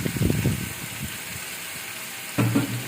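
Onion, tomato and amaranth greens sizzling in a pan, with a loud crackle and stirring scrapes at the start, a quieter stretch, then a fresh burst of sizzle near the end.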